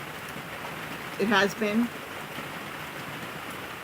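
Steady rain falls outside around a farm animal shelter, a constant soft hiss throughout, with a person speaking briefly over it partway through.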